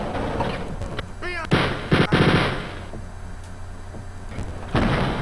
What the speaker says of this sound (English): I like shooting at them from across this nice little room.